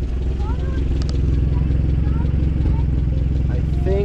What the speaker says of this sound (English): I think that the branch punctured my exhaust pipe.